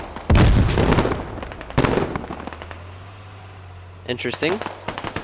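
Sharp bursts of gunfire ring out in the military shooter game Squad, loud and close at first, then a looser crackle of later shots while a person speaks briefly.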